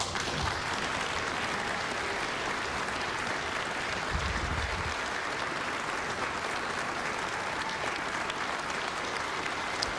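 Sustained, heavy audience applause following a budget speech line about raising teacher pay, a dense unbroken roar of clapping lasting the full ten seconds, with a brief low rumble partway through.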